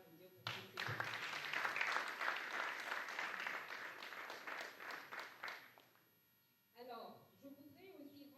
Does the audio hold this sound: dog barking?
no